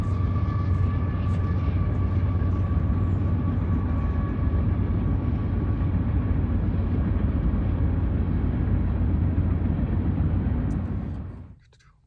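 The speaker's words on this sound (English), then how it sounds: "We got a CSX going by." A long, steady low rumble with droning tones as a CSX freight train rolls past nearby, holding constant before cutting off at the end.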